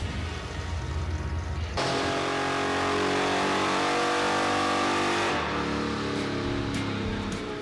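A Chevrolet Impala revs hard on a chassis dyno, the engine note climbing loud and steady for several seconds after a quieter start, then easing off near the end.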